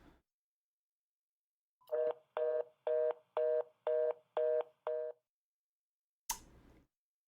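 A telephone line gives seven evenly spaced beeps after a call is hung up, then a short sharp clunk, close and fairly quiet.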